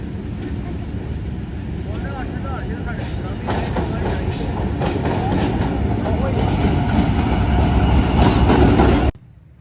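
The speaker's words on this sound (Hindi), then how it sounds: "यह सांगलाई रेलवे स्टेशन और पीछे ट्रेन आ रही है कराची से।" A passenger train pulls into Sangla Hill railway station in Pakistan, arriving from Karachi, its broad rumble and rattling wheels growing steadily louder over about nine seconds before cutting off abruptly, with crowd noise around it.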